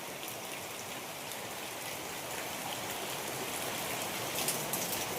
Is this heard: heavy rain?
yes